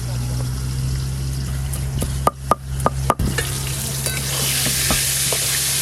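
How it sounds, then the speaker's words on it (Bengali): Potatoes frying in a pan, pressed down as they cook, give a steady loud sizzle throughout, broken by a cluster of sharp utensil clicks and scrapes partway through. "এদিকে আলুগুলো ভালো করে ভাজা হতে থাক"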